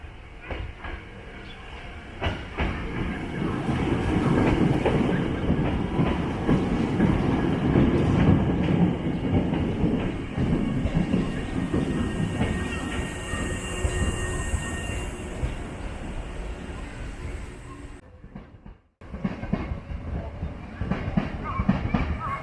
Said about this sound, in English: oh good, we got a train coming in.